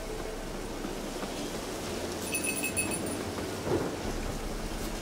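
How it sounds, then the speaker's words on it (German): Steady rain with rumbling thunder from a thunderstorm in the video game The Witcher 3, a constant wash of rainfall with a heavier thunder roll near the middle. No one speaks. "Ein Sturm, verdammt."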